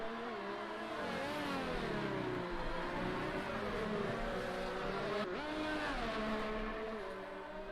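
Race cars in a simulated Canadian Grand Prix league race scream past in a racing video game, engines revving and shifting through gears loudly and continuously, with no talking over them.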